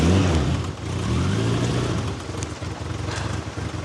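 A car engine running rough rumbles and revs unevenly up close, with a loud low throbbing that dips and rises over a few seconds, no voices over it.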